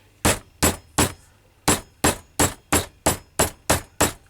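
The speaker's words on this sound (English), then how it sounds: "And what I'm going to do now is hammer that down." A hammer striking a fitting on a 6-foot walking lead, eleven sharp metallic blows in a steady rhythm after a short pause, loud and close with no talk.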